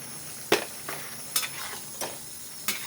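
A spoon stirs a frying vegetable dish sprinkled with rice flour in a pan, giving four or five separate scraping clinks over a soft sizzle, close and fairly quiet, with no talk.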